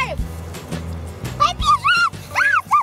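Several dogs bark and yelp in quick bursts, with high whining yips, close by, mixed with some background voices.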